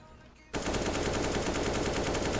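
Rapid automatic gunfire in Counter-Strike: Global Offensive on the Vertigo map, a loud continuous burst of shots starting abruptly after a brief quiet moment.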